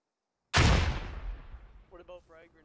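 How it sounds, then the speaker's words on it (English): A close RPG explosion in the military shooter Squad erupts as one loud, sudden blast that rolls off into a long rumbling decay, with a voice speaking briefly near the end. "Close RPGs going off."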